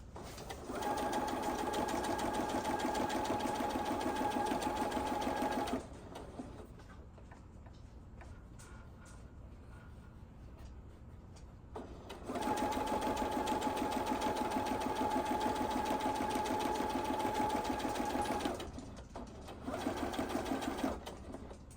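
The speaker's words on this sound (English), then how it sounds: "I've been fiddling with the sewing machine" A sewing machine stitches a 1/4 inch seam around apron pockets in two long, steady bursts of rapid stitching, separated by a quieter pause with faint handling, then a short final burst.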